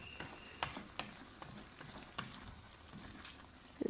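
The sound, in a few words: greens and round gourd frying in a pan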